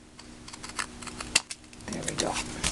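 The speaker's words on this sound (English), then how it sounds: "I love these long scissors" Long craft scissors snip through paper while a pop-up card is being made, giving a series of crisp, close clicks and rustles, with a slightly busier cluster of cuts near the end.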